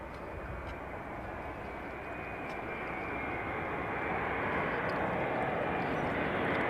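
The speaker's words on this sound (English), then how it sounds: "Including this Dreamliner, yeah?" A Boeing Dreamliner jet airliner roars steadily as a broad, continuous rush that swells slightly louder over several seconds, with no talking.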